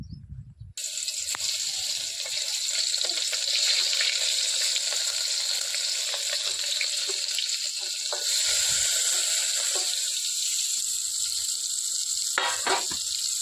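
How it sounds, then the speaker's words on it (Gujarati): Water being poured into a pot to cook Maggi noodles, likely over an open fire, giving a steady loud hissing rush that runs nearly the whole time after a brief quiet start, with no talk. "અને હવે નાખી દઈએ પાણી."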